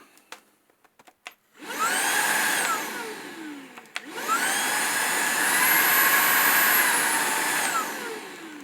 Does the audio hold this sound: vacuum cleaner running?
yes